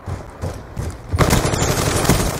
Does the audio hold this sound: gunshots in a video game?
yes